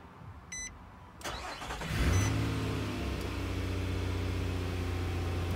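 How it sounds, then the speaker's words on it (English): Nissan Frontier pickup engine starting by remote start: a soft beep, a starter crank, then the engine catches with a brief rev and settles into a steady idle nearby. "A couple seconds later, it's gonna fire up for us."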